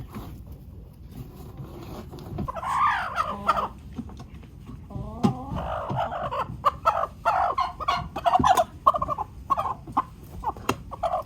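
Sick backyard chickens cluck and gobble-like calls in short bursts, near and fairly faint, with scattered rustling and handling noises, no talking.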